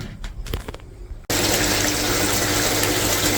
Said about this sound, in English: The water's filling up.